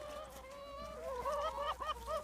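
Beakless chickens crowd around and peck at a corn cob, giving soft, close clucks and rising trills that grow busier toward the end.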